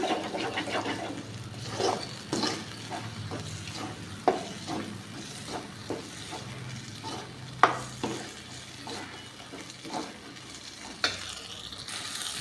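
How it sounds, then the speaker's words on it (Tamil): Garlic kuzhambu masala sizzles and spatters in hot oil while a spoon scrapes and stirs the pan in intermittent knocks. "மசாலா வந்து இதில் எண்ணெயிலே நல்லா சுண்டுட்டும்பா"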